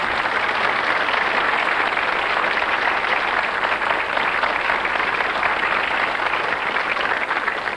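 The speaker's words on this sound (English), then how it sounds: "So I think another round of applause is in order here." A studio audience on a 1991 ITV quiz show claps loudly and continuously, a dense, even wash of applause that fills the whole stretch without letting up.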